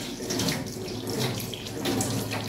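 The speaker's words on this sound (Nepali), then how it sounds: "पास्ताको पानी चाहिँ एकदम बगिरहनु भएको छ" Water pours and drains steadily from boiled wheat pasta into a sink, a continuous close splashing rush with no talk.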